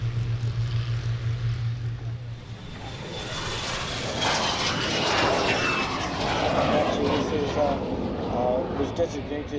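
A de Havilland DH.100 jet flying at an air show, a loud broad roar that swells as it passes and then holds steady, heard after a lower engine hum fades out.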